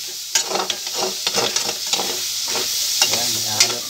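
Garlic and onion sizzle in a pan for Filipino gisadong monggo as a utensil stirs them, with rhythmic scraping strokes over a steady close fry and no voices.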